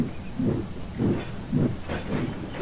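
A steam locomotive named Dudley snorts and hisses in steady rhythmic bursts, about four puffs in under three seconds, close and moderately loud over a constant hiss.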